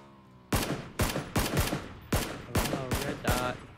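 Rapid bursts of gunfire in the battle-royale game PUBG: seven sharp, loud shots at an uneven pace, a few nearly paired, each leaving a short ringing tail, with no voices during the shooting.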